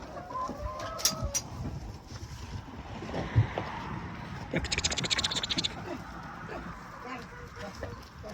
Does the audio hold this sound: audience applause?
no